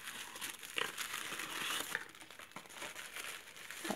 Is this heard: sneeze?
no